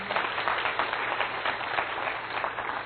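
A church congregation claps steadily for a few seconds during a sermon, a dense patter of many hands, moderately loud and unbroken.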